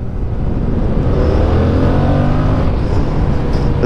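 A Yamaha MT-07 motorcycle engine revs loudly and accelerates close by, its pitch climbing steadily as the throttle opens.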